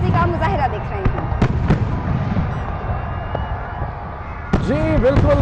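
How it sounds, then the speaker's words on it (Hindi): Fireworks bursting over a large crowd at Minar-e-Pakistan on Independence Day eve: sharp cracks and booms at irregular intervals over constant crowd noise and whistles, with a dense cluster of bangs near the end. "हमारे सामने बहुत से लोग मौजूद हैं जो कि आतिशबाजी का मुजाहिरा देख रहे हैं।"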